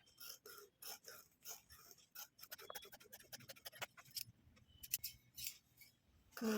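Scissors cutting through a blouse piece fabric, with a close, rhythmic series of crisp snips and blade clicks, some quick and some spaced out, and no voices.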